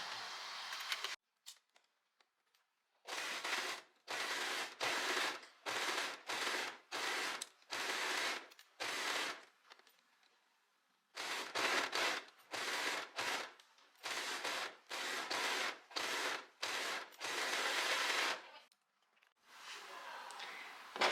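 A sewing machine stitches a sweater sleeve seam in rapid mechanical bursts, running close and loud in repeated segments of about a second with short pauses between, stopping and restarting along the seam.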